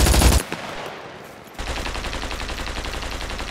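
Bursts of rapid automatic gunfire from the survival video game SCUM, loud and close, with a short burst at the start, a quieter gap, then a sustained rattling stream of shots to the end.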